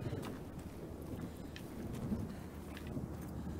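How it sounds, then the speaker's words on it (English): Thunder and rain in the video game Senua's Saga: Hellblade 2 on Xbox Series X: a steady, dense wash of rainfall with a low rolling rumble of thunder throughout, loud and enveloping, no voices. "And you heard a thunder."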